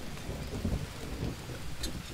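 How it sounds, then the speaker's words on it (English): Rain falls steadily in the jungle survival video game Green Hell, a soft continuous wash with low rumbling texture underneath. It stays quiet and even for about two seconds, with no voices. "It is raining."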